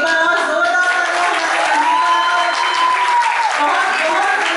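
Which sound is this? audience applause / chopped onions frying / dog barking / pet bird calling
audience applause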